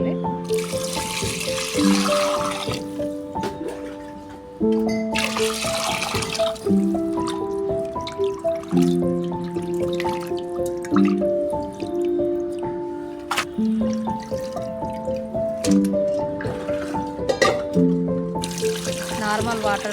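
Small fish for a Telangana-style tamarind curry are rinsed with salt in water, giving soft splashes, drips and squishy handling sounds beneath steady background music, with some talking present.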